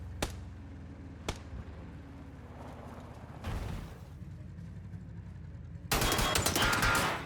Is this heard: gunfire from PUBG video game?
yes